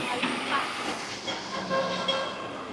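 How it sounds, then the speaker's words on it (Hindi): A busy metro station in Hong Kong hums with a steady rushing hiss of a train, faint rail clatter and occasional high squeals over a constant background roar. "ये एक मेट्रो स्टेशन है"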